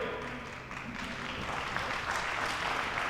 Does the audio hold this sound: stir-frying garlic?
no